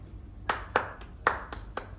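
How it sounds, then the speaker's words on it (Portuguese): Several sharp hand claps in an irregular rhythm, about six in two seconds, close and fairly loud against a quiet background. "Bateu as palmas."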